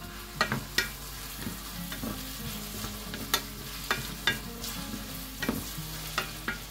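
Vegetables including carrot, onion and artichoke are stirred in a pan, with repeated close scrapes and clicks of a utensil over a soft continuous sizzle, no voices.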